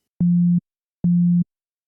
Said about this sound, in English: So we start with a sine wave.